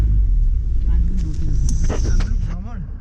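Riding inside a Sumo jeep on a mountain route toward Ghandruk: a low, continuous engine and road rumble sits under people chatting, with a few brief knocks and rattles.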